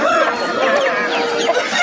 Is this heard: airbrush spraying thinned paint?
no